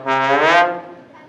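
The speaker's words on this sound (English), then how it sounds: "we can do something very special called the glissando" A trombone plays a single sustained glissando, its harmonic tone sliding upward in pitch and then fading, loud and close, alone without talk.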